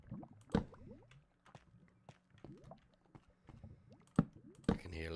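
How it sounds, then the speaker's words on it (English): Lava bubbling in the Minecraft video game: soft, scattered popping and gurgling blips at low volume, with a few sharper clicks mixed in and no voice. "I can hear lava bubbling away beneath me"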